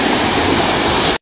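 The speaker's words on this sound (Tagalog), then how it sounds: "Eto guys, merong falls dito." A waterfall in Tubungan, Iloilo roars in a loud, steady, broadband wash close by, running unbroken until it cuts off abruptly at the end.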